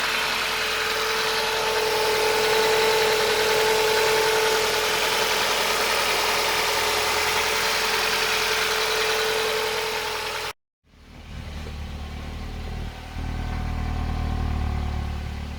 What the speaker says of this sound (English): This is cold, so it's sort of on fast idle, but it runs like a little train.